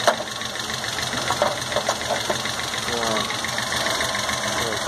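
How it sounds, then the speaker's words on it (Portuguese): Engine of a 1978 Chevrolet Chevette idling at night, a steady, close mechanical drone with a light rhythmic tapping knock, joined by brief bits of talk and a high whine. "É só o motorzinho aí, ó"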